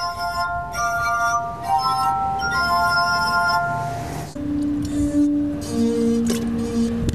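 A glass harp of water-filled drinking glasses plays several glasses at once, layered sustained ringing tones forming chords that shift partway through, bright and close-up.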